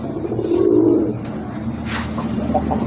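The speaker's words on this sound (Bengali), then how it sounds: "আরেক জোড়া কবুতর দেখেন, সিরাজি কবুতর" Shirazi pigeons at a pigeon market give soft, low, throaty coos up close, with one fuller rolling coo near the start and quieter murmurs after it.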